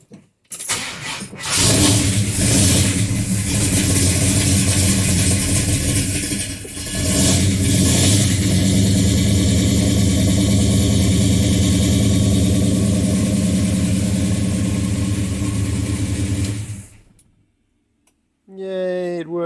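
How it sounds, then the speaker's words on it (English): A Ford Falcon 351 Cleveland V8 with MSD ignition cranks and fires, then settles into a loud, steady, rumbling idle for about fifteen seconds before shutting off abruptly, leaving a brief quiet and a faint voice at the end. "it's time to open the garage door up and fire this car up and see if I can turn it off with the key"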